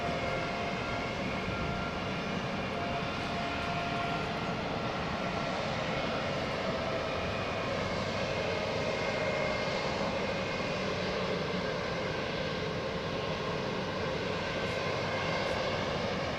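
An airliner departs on the southern runway at London Heathrow Airport, a steady, distant engine roar that holds evenly throughout without a break.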